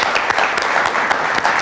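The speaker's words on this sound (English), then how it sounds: "Let's give her a round of applause." An audience claps for a visiting school coach at a televised quiz-show taping: a dense, steady burst of applause, loud and close, that keeps going briefly without any voices.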